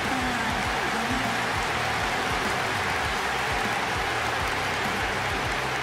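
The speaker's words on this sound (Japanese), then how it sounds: "割れんばかりの拍手。" A baseball stadium crowd gives a dense, continuous roar of applause that stays loud and unbroken throughout.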